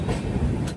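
A train pulls into Tatanagar Junction station in Jharkhand, heard as a dense, close rumble of rolling wheels and carriages with faint clickety-clack, loud and continuous throughout the short moment.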